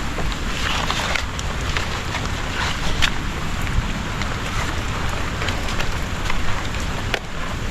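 Heavy rain driven by wind, a loud, dense and steady roar of downpour with gusty buffeting and scattered heavier drops hitting nearby surfaces.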